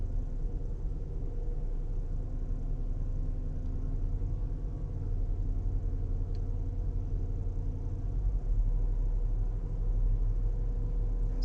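A modern tractor engine, heard from inside the cab, holds a steady low diesel drone at about 1500 rpm, a constant deep rumble with faint mechanical hum and no talk over it.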